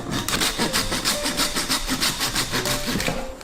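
Rhythmic rasping strokes, about four per second, a kitchen knife sawing hard through a large fish's thick backbone, close and steady for a few seconds.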